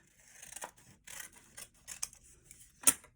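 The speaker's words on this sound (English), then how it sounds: "Get your scissor and cut it in half." Scissors cut through folded paper along the fold line, a series of close, crisp snips with short pauses, ending in one louder final snip.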